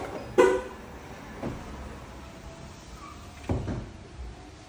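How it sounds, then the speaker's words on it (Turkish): Mercedes B180 W246 locking itself automatically after the driver walks away, heard as a few sharp mechanical clunks spaced seconds apart over quiet outdoor background, with no talking. "Aracım kendini kilitledi."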